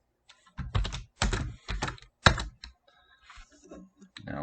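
Fast bursts of typing on a computer keyboard, with clusters of crisp, close key clicks separated by short pauses, then lighter scattered taps, with no voices.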